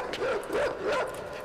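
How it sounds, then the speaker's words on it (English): In the video game Inside, a puppy dog barks three times in quick succession, short yelping woofs at close range over a soft ambient background. "a puppy dog"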